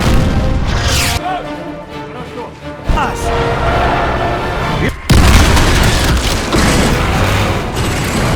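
Weapon fire in an explosive action movie scene from The Expendables 2: loud booming blasts and crashing debris over a dense roaring score, with a sharp break midway before the din surges back.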